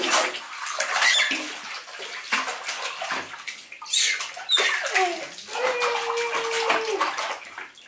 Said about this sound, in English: She's splashing so much in the bath now